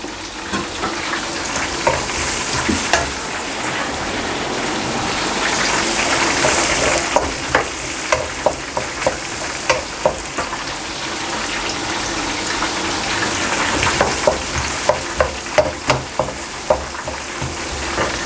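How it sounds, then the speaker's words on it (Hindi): Small chopped carrots fry in a pan for restaurant-style vegetable fried rice, with a steady sizzle throughout and regular sharp taps and scrapes of stirring that grow more frequent near the end. "इसको बस 1-2 मिनट तक मैं इसको थोड़ा सा फ्राई करूँगा।"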